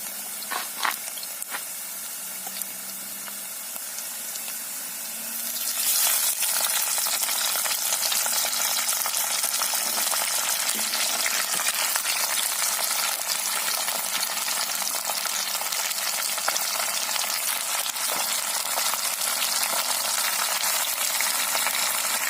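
Squid adobo sizzles and fries in a pan while being stirred, a quieter hiss at first that jumps to a loud, steady crackling sizzle with soft scraping throughout.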